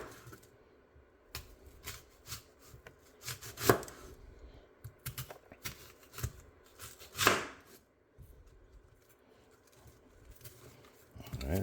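A big onion chopped with a knife on a board for Puerto Rican bistec encebollado, with irregular crisp knife taps in bursts, close and fairly quiet, pausing briefly now and then.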